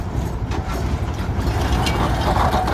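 Sugar mill locomotive at an Indonesian plantation yard with a coupling coming loose, a steady mechanical rattle and clank of metal parts over a low idling rumble, close by.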